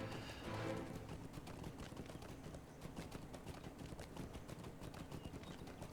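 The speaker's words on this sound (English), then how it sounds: "we're also enjoying a nice horse ride through Eastern Rohan" Horse hooves clip-clopping in a steady brisk rhythm during a ride through Eastern Rohan in a fantasy online game, quiet and continuous with a faint whinny near the start.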